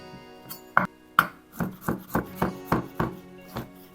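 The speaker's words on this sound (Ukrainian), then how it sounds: "Нарізаємо мариновані корнішончики." A knife chops pickled gherkins on a board in a home kitchen, about ten crisp, evenly spaced thuds close by, with no talking.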